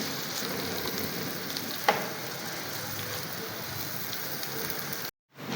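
Chopped onions frying in a pan of cooking oil for chicken biryani, giving a steady, dense sizzle with a faint crackle, one brief louder pop near the middle and a sudden cut to silence near the end.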